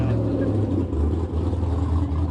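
A loud car engine rumbles close by throughout at a car show, with a steady low growl and slight rises in revs.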